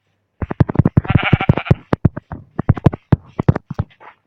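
Goats in the video game Minecraft bleat loudly and close in a rapid run of short calls, some stretched into longer wavering cries, with no talk over them.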